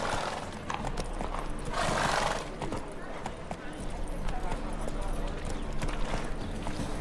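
Roach, Geralt's horse in the video game The Witcher 3, trots with steady clip-clop hoofbeats and a whinny, while voices speak over the sound throughout.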